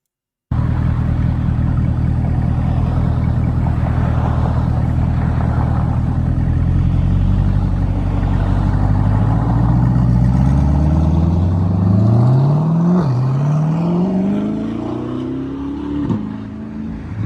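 A Chevrolet C8 Corvette with the LS6 engine and center-exit exhaust idles deep and loud, then revs in rising sweeps near the end with a sharp blip and falling note.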